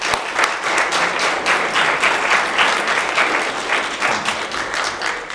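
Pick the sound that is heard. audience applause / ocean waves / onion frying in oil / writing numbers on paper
audience applause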